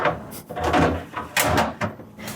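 A refrigerator vegetable drawer slides open and shut in a few close, loud plastic scrapes and thumps over a couple of seconds.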